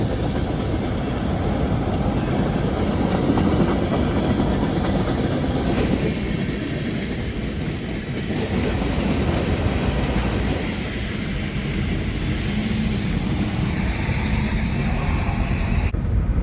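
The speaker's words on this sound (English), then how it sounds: "It's a really nice train." A train rumbles past nearby, a steady loud roar of wheels and rails with faint rhythmic clatter lasting throughout.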